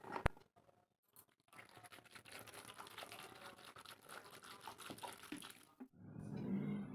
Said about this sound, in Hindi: काटने के बाद चलिए इसे अच्छी तरह से धो लेते हैं। तो 2-3 पानी अच्छी तरह से धो लेंगे।